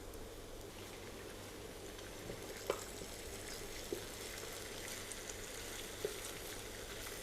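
Egg frying in a spoonful of oil in a pan, a faint, steady sizzle with a few soft clicks of utensils, no talking.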